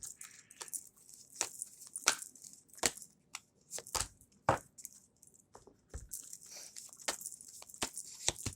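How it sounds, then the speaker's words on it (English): Tarot cards being shuffled and riffled by hand, a quiet run of crisp snapping and flicking bursts at an uneven rhythm, close up with no talking. "this is why I shuffle on camera"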